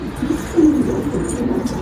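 A pigeon coos loudly and close up in a steady low rolling call during a pigeon-keeping session, with no other sounds.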